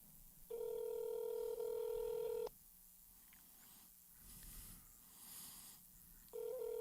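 Telephone dial tones and dialing beeps during a phone test call: a steady tone holds for two seconds, then quiet line noise, then the tone returns near the end.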